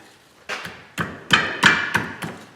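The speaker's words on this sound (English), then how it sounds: "We'll crack the jam nut loose here" Work on a tie rod jam nut on a Ford Fusion gives about six sharp, loud metallic knocks, evenly spaced roughly every half second, as a wrench is struck to break the nut loose.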